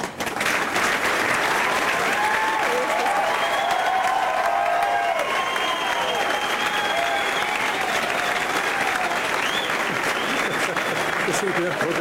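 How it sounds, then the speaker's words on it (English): Sustained audience applause fills a high school graduation hall as the class of 1997 salutes their parents, a dense steady clapping throughout with murmured voices and a few cheers beneath. "The members of the class of 1997 now wish to rise and salute their parents with a round of applause"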